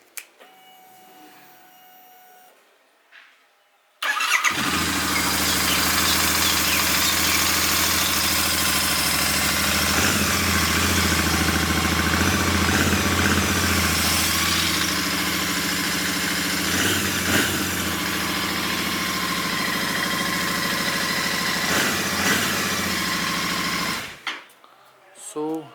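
A Royal Enfield 650 twin idles close by, a steady loud mechanical thrum with faint ticking that runs for about twenty seconds before cutting off, after a quiet stretch of room noise.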